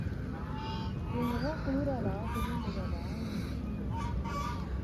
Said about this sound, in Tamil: வாத்து நம்மளை வரவேற்குது.